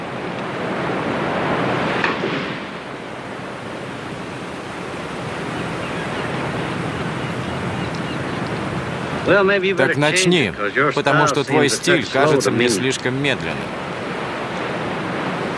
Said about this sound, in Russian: Мне надоело слушать шум моря.